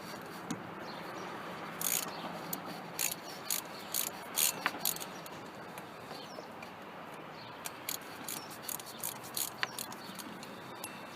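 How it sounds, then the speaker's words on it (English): A ratchet with an 8mm socket works bolts on a Holden Commodore during water pump and hose replacement, producing faint, quick clicking bursts in a quiet garage. "8mm socket for this one."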